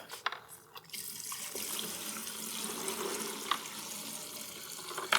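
Dirty fluid is dumped from a bucket through a strainer: a continuous splashing pour of water with a few sharper spatters and drips, nearby and alone.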